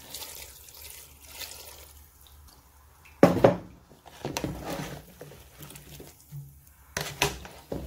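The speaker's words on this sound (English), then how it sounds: "Now I'm gonna add some water into it." Water splashes into a pot of potato porridge with onions, blended apple, olive oil and turmeric, one loud pour in the middle followed by softer trickles and pot clinks, close and fairly quiet.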